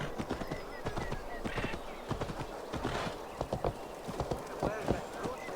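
A horse trots in Assassin's Creed Valhalla, with steady, close hoof clip-clops in a quick irregular rhythm throughout, a brief whinny partway through, and talk running over it.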